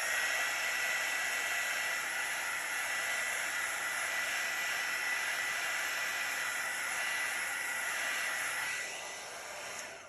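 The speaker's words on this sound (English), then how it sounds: "I'll just hit that with the heat embossing tool just to encourage any more cells that might want to pop through here" A heat embossing tool blows hot air over poured acrylic paint in a steady, loud broadband whoosh that holds almost the whole time, then tails off slightly at the end. No one speaks.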